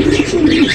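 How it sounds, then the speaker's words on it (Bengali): A pair of blue shorting pigeons coo close by, a steady soft cooing heard alone at a pigeon farm. "এখানে দেখতে পাচ্ছেন এক পেয়ার শার্টিং কবুতর"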